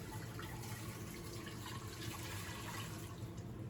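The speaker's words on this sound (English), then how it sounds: "The first thing I'm gonna do is I'm gonna pour in the sauce." Sauce pours into a very deep crock pot for a chuck roast, giving a steady, continuous liquid splashing and gurgling that stays even throughout, with no voices.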